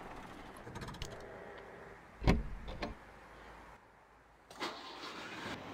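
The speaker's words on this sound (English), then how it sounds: "oh my god, it's a car." An A968M car engine in the off-road driving game Spintires: MudRunner cranks and catches, a sudden loud surge followed by a shorter second burst, then a quieter mechanical sound later.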